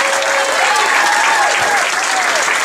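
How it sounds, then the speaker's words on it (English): Audience applause for new comedians at a stand-up comedy night, a thick continuous roar of clapping from a packed room, loud and even throughout with a few cheering voices mixed in. "How about a round of applause for the new comedians in advance?"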